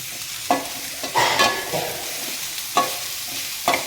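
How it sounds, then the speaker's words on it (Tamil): Onions and tomatoes frying in a pan, with a soft continuous sizzle broken by several distinct scraping stirs of a spoon against the pan, close and clear, with no talk. "இப்போ நல்லா அதையும் கிளறி விடு"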